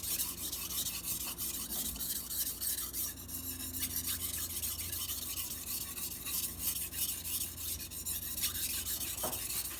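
A carbon steel Santoku knife being sharpened, giving a steady, close rasping rub of steel across a stone that repeats in short strokes throughout, with no talking.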